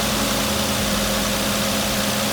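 A 2009–2014 Nissan Murano engine idling after its throttle body and MAF sensor were cleaned, a steady close hum with an even low rumble, running alone without voices.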